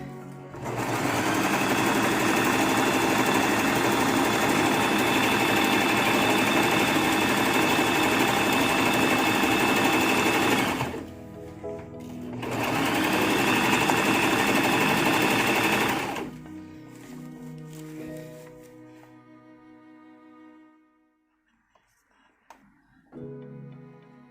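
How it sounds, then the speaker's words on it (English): A sewing machine whirs steadily in two long, fast stitching runs around fabric, with a short break between, then stops and a few faint clicks follow. "now we'll bring this to the sewing machine, stitching it all the way around."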